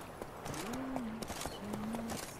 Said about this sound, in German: worauf er, das Pferd am Zügel führend, am Ufer entlang in die Richtung ging